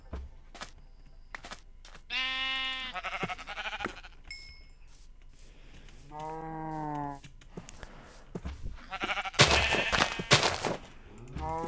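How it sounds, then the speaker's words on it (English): Sheep in Minecraft bleat in several separate calls, a few seconds apart, loud and close, with a sharp burst of game noise near the end and no talking. "There's like a bunch of animals over here. I can see sheep."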